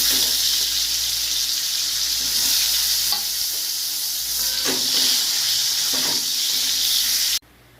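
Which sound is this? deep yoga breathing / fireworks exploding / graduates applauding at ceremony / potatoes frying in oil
potatoes frying in oil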